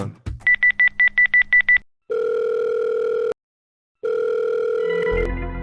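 A rapid burst of phone keypad tones is followed by two long, steady ringback tones separated by a silent pause, close and loud.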